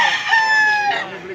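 A one-year-old rooster gives a single close, loud crow with a drawn-out, wavering note that fades near the end.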